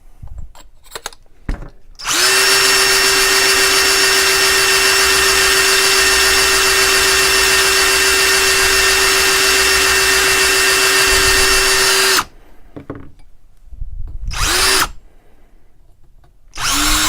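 A Lee case trimmer spun by a power drill trims .416 Barrett brass with a loud, steady high whine for about ten seconds, bracketed by brief handling noises and short bursts.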